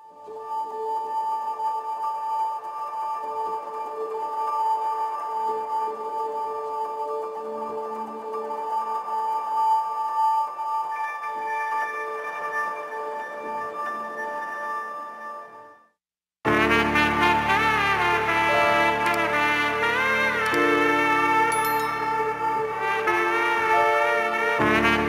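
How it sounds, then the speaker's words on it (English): Sustained ambient music loop with long droning synth tones, then a brief silence before a denser, brighter layered pad section enters. "next I went to splice and I found this ambient loop"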